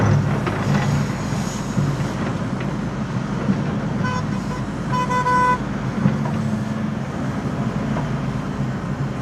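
A vehicle horn toots in short blasts from a passing work crew's vehicle near an airport runway, over steady traffic and outdoor rumble.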